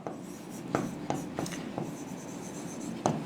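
Chalk or marker strokes on a classroom board, a run of quiet scratchy writing with short taps at the start of strokes, steady and close, without speech.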